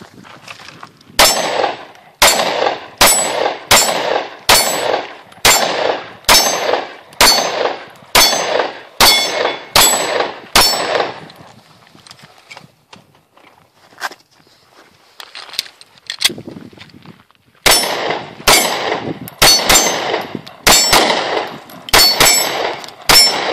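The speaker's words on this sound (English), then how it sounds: "Gonna take a few shots with the M&P." An M&P pistol fired during a night shoot, loud sharp shots in a steady rapid string, a pause with faint handling noise, then another quick string of shots.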